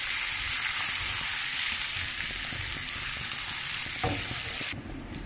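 Curry leaves and crushed chili fry in hot oil for a tattukada-style tapioca dish, a loud continuous sizzle with brief stirring clatters. The hiss drops away sharply near the end.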